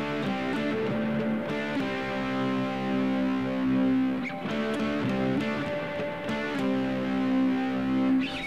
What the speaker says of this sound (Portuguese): Se você fizer uma técnica chamada power chords invertidos